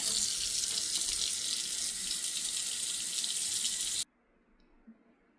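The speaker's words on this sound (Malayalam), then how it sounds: "എല്ലാം തന്നെ കഴുകിയെടുക്കട്ടെ" Tap water runs steadily while banana leaves are washed under it, a loud continuous splashing hiss that stops abruptly, leaving near silence with a faint clink.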